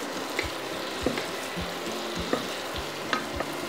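Tofu stirred in a pan with fried lemongrass and chili, a constant sizzle under regular rhythmic knocks and scrapes of the utensil against the pan, close and continuous, no one talking.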